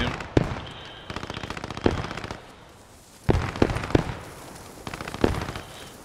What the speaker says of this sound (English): a German MG, right side on the hill, maybe